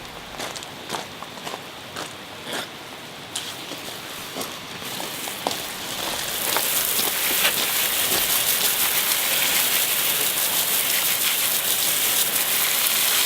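A hose sprays water to rinse cleaner off a car alloy wheel, with a steady hissing splatter that thickens into a dense, continuous spray after a few seconds of scattered drips and taps.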